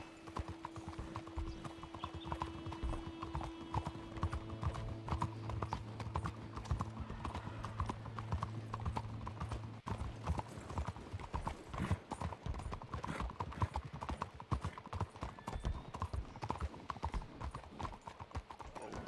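Horse hooves clip-clop in a steady, continuous rhythm throughout the Red Dead Redemption video game, with a brief whinny and tonal game sounds early on and no clear talking.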